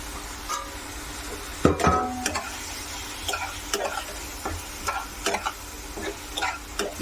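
Boiled pasta goes into a hot pan and is stirred, with a steady frying sizzle and scattered scraping and clattering knocks at irregular intervals, close by with no voices.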